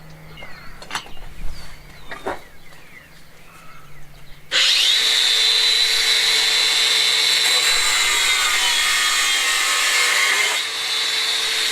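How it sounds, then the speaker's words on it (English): An angle grinder cuts through threaded rod with a loud, sustained high-pitched screech that starts abruptly and runs for about seven seconds. Quieter handling noises come before it. "I'm just going to cut this with the angle grinder into the length that I want."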